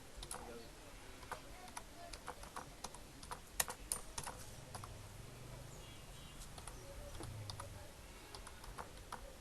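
Soft clicking of a computer keyboard while a name is entered in an Excel sheet, quiet irregular taps scattered over a faint background with a voice talking at times.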